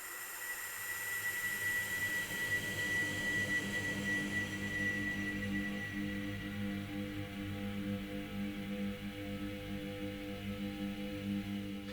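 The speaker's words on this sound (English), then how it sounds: "It's kind of a lame lightsaber sound." A synthesized drone sample like a lame lightsaber, a steady humming buzz with a thin whine on top that fades partway through, sustained and even throughout with no talk.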